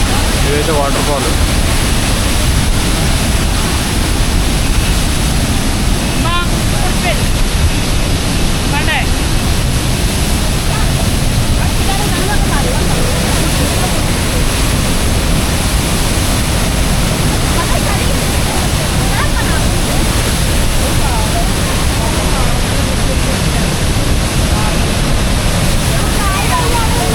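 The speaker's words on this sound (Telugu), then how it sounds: "ఇదే టాప్ ఆఫ్ ద మౌంటైన్ నుంచి వచ్చే వాటర్ ఫాల్ అయితే ఇది." Meenmutty waterfall in Wayanad, Kerala, mountain water pouring down in a loud, constant roar that fills the whole stretch, with a voice faintly present beneath the rushing noise.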